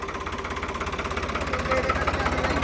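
A New Holland 3630 tractor engine idles with a steady, rhythmic chugging thump, each beat distinct and even, close and moderately loud throughout.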